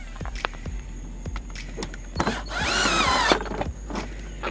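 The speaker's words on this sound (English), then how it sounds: "go ahead and take those screws that you took out originally, and you can just reinstall them" A power tool reinstalling screws during a charge pipe installation on a 2013 BMW 335i xDrive N55, with short whirring bursts and clicks and one longer whining run in the middle, heard close up against a low steady hum.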